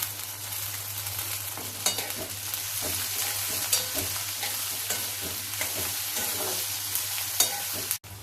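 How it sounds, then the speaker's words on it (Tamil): Onions and green chillies fry steadily in a pan, a continuous sizzle broken by scattered clinks and scrapes of stirring, close and fairly loud with no talking. "வெங்காயம் இப்போ முக்கால்வாசி வதங்கிடுது."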